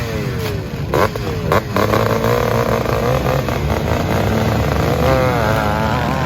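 Classic Maico 490 single-cylinder motorcycle thumping loudly at a motocross race start, engines revving and rising in pitch alongside other bikes, a dense continuous roar close by.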